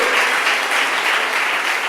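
A church congregation claps together in worship, a loud, dense, sustained wash of applause from many hands close by, steady throughout with no pause.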